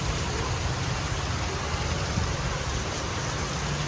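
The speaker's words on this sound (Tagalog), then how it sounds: "kapanahon na na kasi ng ulan ngayon. Panahon na ng ulan." Heavy rain pours down in a dense, continuous hiss, loud and unbroken from start to finish.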